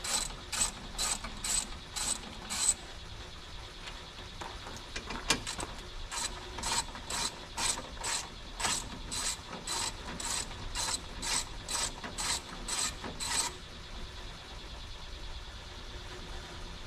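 Ratchet wrench loosening a bolt behind the front valance of a 2014 Chevrolet Silverado during a headlight swap: quick runs of sharp, evenly spaced clicks, close and fairly quiet, with a brief pause before the ratcheting resumes.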